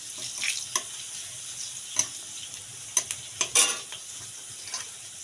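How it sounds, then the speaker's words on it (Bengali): Chili, bay leaf and cardamom sizzle in hot oil in a wok for chicken kosha, giving a steady quiet hiss broken by several sharp spattering pops and a few clinks of a spoon against the pan. "লঙ্কা তেজপাতা এলাচ কড়ায় দিয়ে দিয়েছি"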